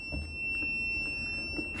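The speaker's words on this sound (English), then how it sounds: "started making this weird beep." Beeping from a CAT CJ1000DXT portable power station after being plugged in to charge; steady high tones sit over faint background noise with no talking.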